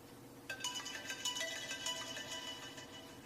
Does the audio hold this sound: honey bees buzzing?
no